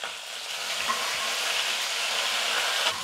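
Chopped ginger fries in hot oil in a pan for masala dosa, a steady, close, loud sizzle with no pause throughout.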